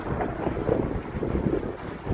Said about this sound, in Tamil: ஆனாலுமே வந்து காற்று பயங்கரமான காற்று. ஏன்னா ரிவருங்கிறதுனால.